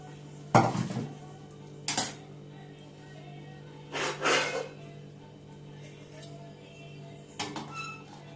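A metal kadai is handled in a kitchen, producing four separate bursts of scraping and clanking metal separated by quiet pauses, fairly close and clear.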